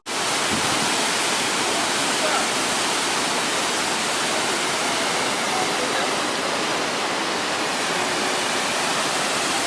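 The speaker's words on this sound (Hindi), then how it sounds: "हम लोग पहुंच गया जंग फॉल वाटरफॉल में" Jang Falls waterfall in Tawang pours as a loud, dense, unbroken roar of rushing water that fills the whole clip, heard from close by.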